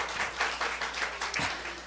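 A church congregation claps together at a Monday morning Korean worship service, a brief burst of soft, steady applause from a modest group in a room with a low hum underneath.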